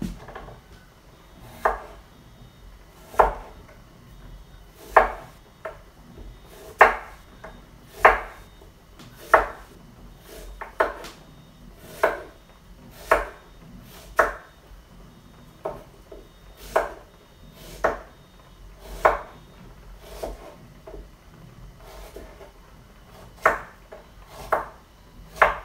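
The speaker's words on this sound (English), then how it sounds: "You just want to cut it in circles, like that." Knife chopping a vegetable into rounds on a cutting board for beef sinigang tamarind soup, a steady series of about twenty sharp, close chops spaced roughly a second apart, with no talking.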